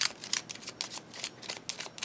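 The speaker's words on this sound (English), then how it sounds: "I'll shuffle my Lenormand cards" Lenormand fortune-telling cards being shuffled by hand in quick, repeated riffling bursts of crisp papery flutter, close and fairly loud, with no talking.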